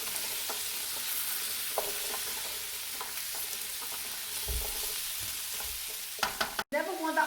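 Onions saute in a pan with a steady sizzle and hiss, a spoon scraping and stirring through them in soft repeated strokes, with a sharp clatter near the end.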